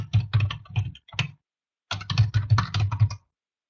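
Someone types an address on a computer keyboard in two bursts of quick, close keystrokes separated by a short pause, with no talking.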